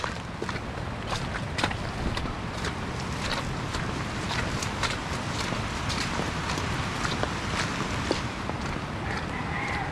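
Steady broadband rush of a river swollen by heavy rain and flooding fills the whole clip, with scattered clicks and light footsteps over it; no talking.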